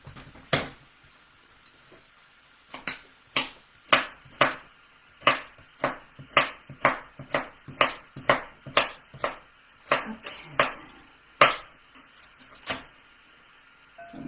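A larger kitchen knife chops jicama into sticks on a cutting board, a series of sharp, close knocks in an uneven rhythm, some in quick pairs, separated by brief pauses.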